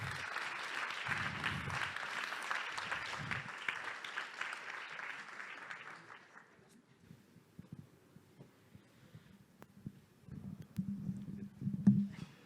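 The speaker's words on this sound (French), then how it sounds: "On peut les applaudir." Audience applause greeting guests onto the stage at a trophy ceremony, steady clapping from a crowd for about six seconds that fades out, leaving a quiet room with low rumbling and soft thuds.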